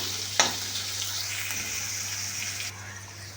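Chopped onions, two of them filling a big bowl, sauté over low heat for a kurma, giving a steady soft sizzle with a sharp clatter of stirring near the start and a faint hum underneath.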